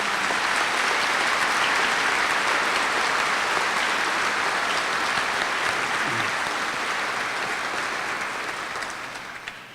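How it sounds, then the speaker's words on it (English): Sustained, full applause from a crowd at a school graduation ceremony honoring seniors, a thick, even roar of clapping that carries on for several seconds before tapering off at the end. "Please join me in applauding these outstanding seniors."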